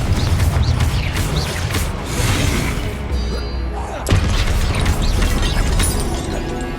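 Confringo blasting spell explosions in the video game Hogwarts Legacy, loud dense booms and crashing debris in continuous combat, with a sharp blast near the middle, heavy and close.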